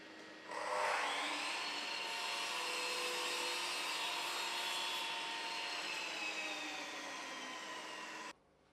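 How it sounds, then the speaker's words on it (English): Chop saw cutting an internal mitre through wooden skirting board, a sustained loud whine of the blade biting into the timber for about eight seconds before stopping abruptly, with no talk. "Adjust the chop saw to the same angle as the sliding bevel and cut an internal mitre on the"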